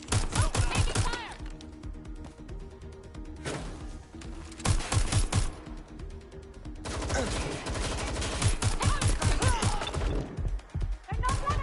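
Gunfire in the Watch Dogs video game, bursts of rapid automatic shots in clusters separated by short lulls, loud and close, with voices briefly speaking between volleys.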